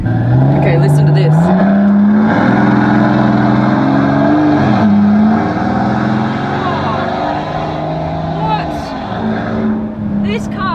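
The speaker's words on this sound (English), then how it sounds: "What? This car is so loud." Maybach Exelero engine revving loudly on a private airport strip, a deep sustained roar with rising and falling pitch sweeps throughout, close and dominant, with people talking over it.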